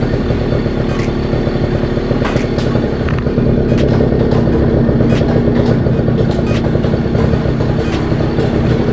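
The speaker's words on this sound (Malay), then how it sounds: "Saya terpaksa start engine pasal saya punya bateri dah low." Small motorcycle engine idling steadily, started because the battery was low, a loud close continuous rumble with faint ticks over it and no talking.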